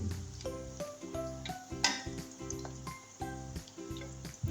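Five to seven black peppercorns and two or three cloves sizzle in hot oil for aloo gobi, a steady soft frying hiss running beneath louder background music, with one brief sharper crackle midway.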